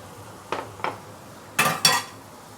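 A spoon presses fermented black beans in a dish for restaurant-style steamed fish, giving four short clinks: two softer taps, a pause, then two louder, ringing knocks close by.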